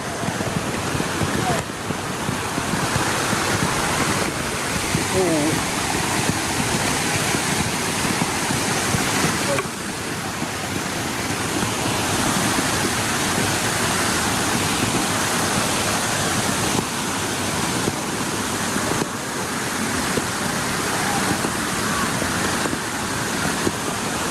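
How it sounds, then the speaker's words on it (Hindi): A fast-flowing river at Ok-kepru in Karbi Anglong rushes loudly and continuously close by, a broad churning roar of water that stays steady throughout. "और यहाँ देख सकता है कितना तेजी से पानी दे रहा है"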